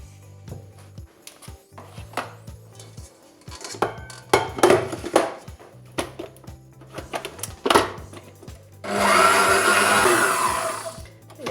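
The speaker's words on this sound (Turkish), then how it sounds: "İlk önce labne peynirimi yaklaşık bir 2-3 dakika çırpıyorum." Labneh cheese being whipped for a San Sebastian cheesecake gives uneven clatters and knocks of a bowl and beaters, then a loud, steady electric mixer whir near the end.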